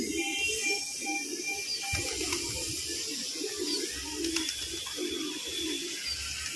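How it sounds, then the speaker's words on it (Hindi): Pigeons on a rooftop give low, soft, repeated coos, faint and steady against a hissy background, with a few brief clicks and bumps. "अरे देखिए कबूतरी, देखिए अभी नीचे कूदेगी जाके, ये नीचे की कबूतरी।"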